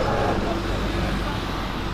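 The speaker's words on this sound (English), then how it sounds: "Sorry for all the traffic here." Steady road traffic outside a Starbucks forms a dense, continuous roar with no distinct passing vehicles, loud and close throughout.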